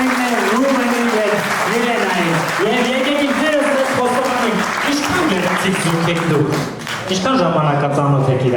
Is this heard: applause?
yes